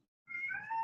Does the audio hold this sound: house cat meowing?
yes